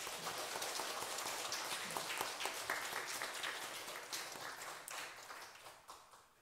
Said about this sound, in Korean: 축복과 응원의 박수 한번 보내면 좋겠습니다